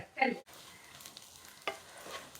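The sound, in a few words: coconut and curry leaves frying in oil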